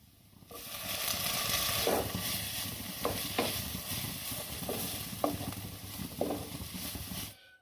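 Chopped tomato and vegetables fry in a pan for macaroni masala and are stirred with a spoon, giving a loud, close, continuous sizzle broken by several clicks and scrapes of the spoon, with no talking.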